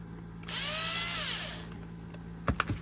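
A power driver whirs in a single high-pitched burst of about one second on a Redcat Valkyrie RC truck's fasteners, followed by a few faint clicks and taps.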